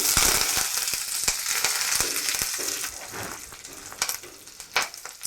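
Curry leaves and green chilies hit hot oil in a pan, giving a loud, bright, continuous sizzle with sharp popping crackles that gradually settle.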